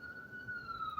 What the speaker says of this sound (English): I just heard the ambulance go by